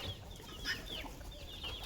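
Chickens cluck softly as they gather to feed, a few faint scattered calls over quiet outdoor background.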